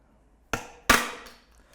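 Plastic flap on a Redland Ambi dry verge unit snapped off by hand, two sharp cracks in quick succession followed by a faint clatter, close and otherwise quiet.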